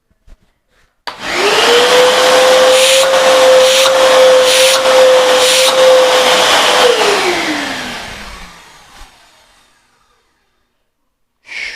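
A Lavor Compacto Eco vacuum cleaner, just reassembled after cleaning, switches on with a loud, steady motor whine that holds for about six seconds before spinning down and fading to silence.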